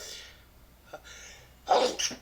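A sudden sneeze bursts out close and loud near the end, preceded by a couple of brief breathy sounds, with no talk around it.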